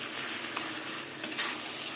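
Taro leaves stir-fried with shrimp and fried spices in a pan give a steady, fairly soft sizzle, with a couple of faint spatula scrapes and stirring sounds over the crackle.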